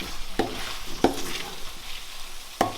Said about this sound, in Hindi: अच्छी तरह मैंने चिकन को भून लिया हुआ है